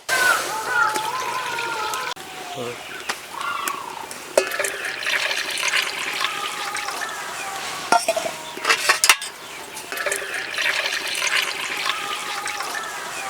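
Water pours and splashes into a pot on a lit stove ahead of boiling potatoes, broken by clinks and scrapes of metal utensils and cookware at close range, with a voice talking in bursts.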